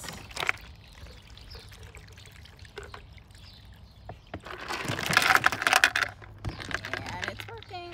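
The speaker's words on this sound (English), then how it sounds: "you're gonna take your ice cold pitcher of water and you're gonna pour it" Ice-cold water poured from a pitcher into a cold pan, heard as a bright splashing pour that swells in the middle of the stretch, with scattered handling noises and quieter moments around it.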